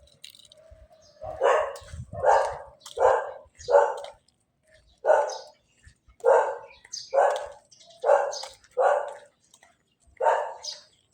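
A dog barks repeatedly outdoors, about a dozen evenly spaced loud barks in a steady rhythm, fairly close, with no talk over them.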